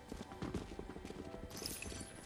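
Footsteps in a multiplayer video game clatter in a quick, irregular rhythm, close and fairly loud against a busy game backdrop, with a brief brighter hiss partway through.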